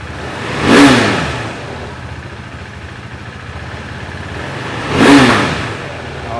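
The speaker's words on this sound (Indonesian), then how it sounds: "Gue akan coba geber ya." A motorcycle engine idles, then is revved twice, each rev swelling sharply and dropping back to a rumbling idle. Close and loud.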